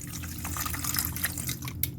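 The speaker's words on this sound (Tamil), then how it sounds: "தண்ணி ஊற்றிக்கங்க." Water poured onto sugar in a bowl while making tea-shop kajada batter, giving a short continuous splashing trickle that stays close and steady, with no voices.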